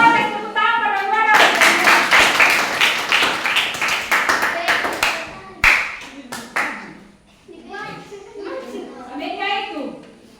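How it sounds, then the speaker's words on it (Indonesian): Sharp hand claps ring out in a quick uneven burst at a junior high school, with children's voices chattering around them before and after. "Siapa yang tepuk tangan pada juara?"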